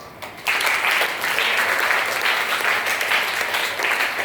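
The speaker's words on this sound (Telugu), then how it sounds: "సో వాళ్ళకు ఒక చప్పట్లు" An audience claps for students at a school role-play and drama event, a dense, steady burst of applause that starts abruptly and holds at full strength throughout.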